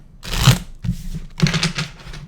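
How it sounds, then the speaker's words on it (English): Tarot cards are shuffled up close in two loud, crisp riffling bursts separated by a brief pause, with no voice over them. "And one more shuffle, I think."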